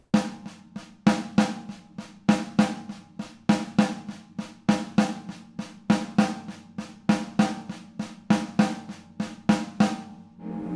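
A drummer's hands strike the kit in a steady accented pattern that follows the bass drum part, punchy hits with cymbal wash, played alone at moderate loudness in a repeating groove throughout.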